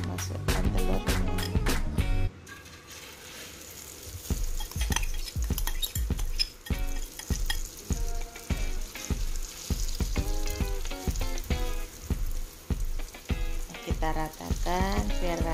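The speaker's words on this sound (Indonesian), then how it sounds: "Kita panaskan minyaknya dulu. Kalau sudah panas, langsung saja kita masukkan telurnya." Egg batter sizzles steadily in hot oil in a wok, loud and continuous, while a utensil scrapes and taps against the pan in a quick repeated rhythm.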